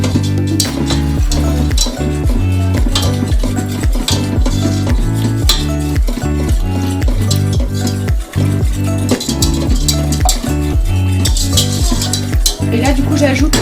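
Milk goes into a hot saucepan and is stirred steadily, a continuous rhythmic scraping and clinking of utensil against pan with a soft sizzle underneath, close and fairly loud throughout.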